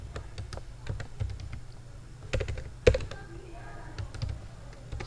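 Typing on a computer keyboard while writing PHP code: a steady run of quick, close, crisp key clicks with one sharper tap near the middle, over a low background hum.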